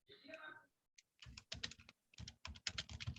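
Rapid keystrokes on a computer keyboard come in uneven bursts with brief pauses between them, close and fairly quiet, after a short stretch of voice at the start.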